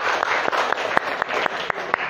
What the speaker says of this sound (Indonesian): Tepuk tangan lagi kita ya